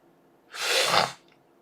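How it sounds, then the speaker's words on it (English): One sharp, close sneeze bursts out after a quiet breath, loud and brief, followed by faint breathing. "Gordy, why do you have to make me sneeze?"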